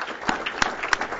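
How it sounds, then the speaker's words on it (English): Audience applauding for a speaker at an energy policy event, a steady dense wash of clapping with a few sharper peaks, moderately close and continuous throughout. "let's give him a round of applause"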